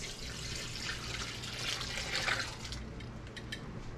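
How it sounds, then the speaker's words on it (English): Lemon juice and pineapple juice pour into a pot for canning zucchini pineapple, a steady liquid splash and trickle at moderate level for about three seconds before easing off. "And then I'm going to pour in the lemon juice and the pineapple juice."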